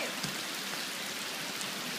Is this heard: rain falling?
yes